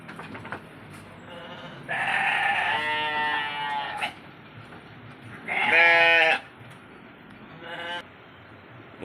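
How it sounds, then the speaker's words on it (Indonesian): Sheep in a livestock pen bleat loudly and close by, several long wavering calls following one another with short pauses between them. "Dan ini domba-dombanya."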